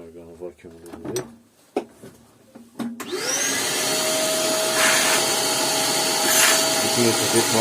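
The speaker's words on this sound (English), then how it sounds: "now we're gonna vacuum a little bit." After a few clicks and clatters, a vacuum cleaner switches on and runs with a loud, steady whirring drone, cleaning drilling debris from a Vauxhall Opel 1.9 CDTI inlet manifold.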